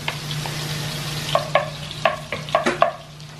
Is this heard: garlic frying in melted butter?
yes